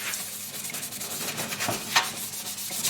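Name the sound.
scrubbing a stained sink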